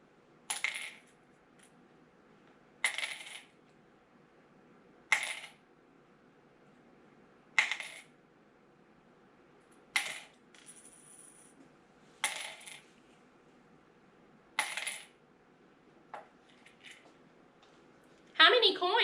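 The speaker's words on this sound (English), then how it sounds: "listen again for the amount of coins that is dropped into my cup" Eight coins drop one at a time into a cup, each landing with a sharp metallic clink, evenly spaced about two and a half seconds apart in quiet.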